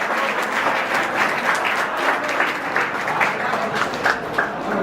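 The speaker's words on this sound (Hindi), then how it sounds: "और तालियां।" At a prize-giving during a career guidance seminar, an audience breaks into dense, steady applause for award winners. It is loud and continuous throughout with no speech over it.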